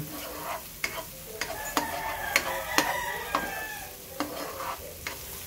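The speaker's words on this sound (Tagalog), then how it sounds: "Ayan, nag-glaze ng ating sibuyas." Onions sautéing in olive oil in a pan for spaghetti, with a steady soft sizzle under a series of sharp scrapes and taps of a spoon stirring, close and alone without talk.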